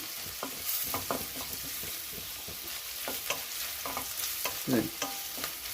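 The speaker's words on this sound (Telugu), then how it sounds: "ఉల్లిపాయ వేగుతున్నాయి" Onions and green chillies fry in a pan for tomato rice, with a steady close sizzle broken by repeated scraping stirs of a spoon and a brief sharper scrape near the end, no voices.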